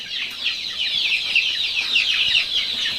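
Over a hundred incubator-hatched layer chicks peeping together in a dense, constant chorus of high shrill cheeps, loud and near with no gaps.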